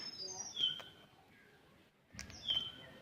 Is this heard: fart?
no